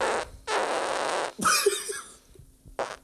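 A loud fart, close to the mic, comes in two broadband bursts followed by a shorter rasp; scraps of lower sound sit between them, and a brief final burst ends the clip.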